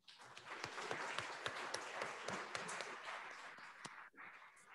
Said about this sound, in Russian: Давайте поблагодарим каждого из них аплодисментами.